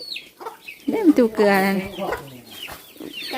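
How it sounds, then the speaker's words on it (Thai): Chickens on a rural Thai farm cluck and squawk loudly up close, one bird flapping and crying out in a burst while someone talks nearby. "ไก่มันบิน มันบินแล้ว"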